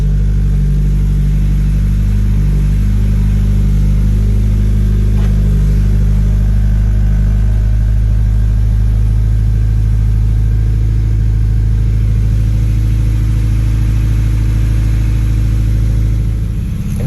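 Engine of a 1986-89 Honda Accord idling steadily after a push-button keyless start, a loud, constant low hum with no breaks and no talk.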